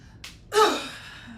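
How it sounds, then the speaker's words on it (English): A sharp inhale followed by a forceful, breathy exhale during an abdominal breathing exercise in a workout, close and fairly loud, with no talk over it. "Alright, abdominal breathing."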